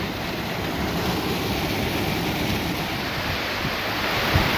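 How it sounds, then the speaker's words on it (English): Wolf Creek Cave Falls pours from a cave in a steady, dense roar of falling water, loud and continuous from start to finish with no voices. "There's the cave and the waterfall."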